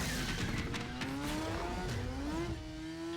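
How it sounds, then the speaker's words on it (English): A motorcycle engine in the video game Warframe revs continuously with rising and falling pitch, loud and close, as the bike accelerates with no talking over it. "Get on the motorcycle, Revenant."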